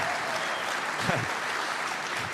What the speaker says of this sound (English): Big whoops of applause